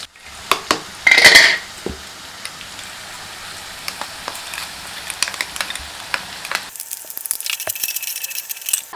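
Utensil stirring and clinking against a pan as ground chilli and turmeric fry, with a brief loud scrape near the start, scattered metallic taps and a faint sizzle throughout.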